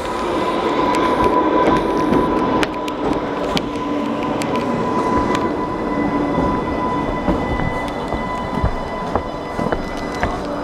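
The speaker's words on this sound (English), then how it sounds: "Old tube train class 484003." An old London Underground-style train, class 484003, rumbles past at Smallbrook Junction, a steady loud roar of wheels on track with clanks and faint squeals, no voices.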